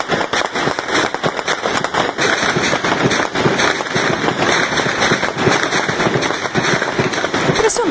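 Rapid sharp cracks of gunfire pop in dense, irregular bursts throughout, loud and close, with rough background noise filling the gaps.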